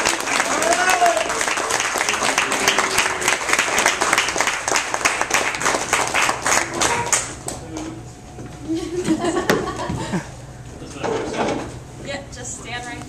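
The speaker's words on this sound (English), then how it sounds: "so big round of applause" An audience claps in dense, loud, steady applause for about seven seconds, then it dies down to scattered claps under quieter voices.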